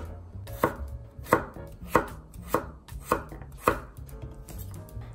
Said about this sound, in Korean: 수제비에 들어갈 호박을 썰어 보겠습니다